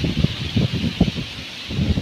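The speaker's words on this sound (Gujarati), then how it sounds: "પવન બહુ છે" Strong wind buffets the microphone outdoors in a village, producing rapid low rumbling gusts and rustling that pulse several times in quick succession.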